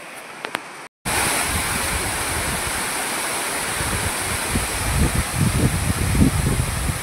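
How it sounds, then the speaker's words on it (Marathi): A waterfall roars steadily nearby, a dense continuous rush of falling water that stays loud throughout after a short quieter moment at the start. "धबधबा बघू शकता तुम्ही।"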